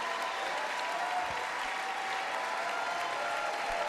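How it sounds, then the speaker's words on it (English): Sustained applause from a large audience at the State of the Union address, a dense, even roar of clapping heard steadily at moderate distance, with no clear speech. "Damn, a lot of clapping."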